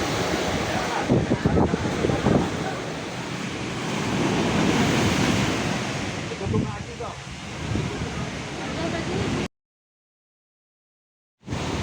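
Big ocean waves crash and roll under strong gusting wind at sea, a loud, continuous roar with heavy wind buffeting on the microphone, broken by a brief dropout before the roar resumes.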